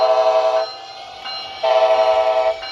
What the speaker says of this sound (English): Yeah, beautiful horn.